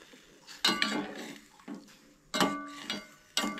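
A spoon scrapes and clinks against a cooking pot in several separate bursts while soybeans and salt are mixed in, each stroke a quick metallic rattle at close range with quiet pauses between.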